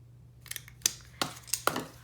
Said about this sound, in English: I take my little corner rounder, and I just like to have like a little softer edge on that fold over